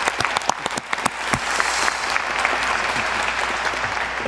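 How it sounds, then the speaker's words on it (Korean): Audience applause of encouragement at a government defense strategy committee meeting, starting as a few sharp scattered claps that quickly swell into dense, sustained clapping from the room. "격려의 박수 부탁드리겠습니다"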